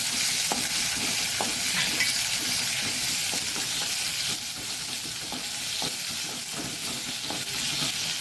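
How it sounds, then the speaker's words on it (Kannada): Chopped onion and tomato frying in a pan for sambar, a steady close sizzle with soft stirring scrapes and taps throughout, no voices. "ಸೊ ಸ್ವಲ್ಪ ಇದನ್ನು ಟ್ರಾನ್ಸ್ಪರೆಂಟ್ ಆಗೋ ತನಕ ಹುರಿದುಕೊಳ್ಳೋಣ"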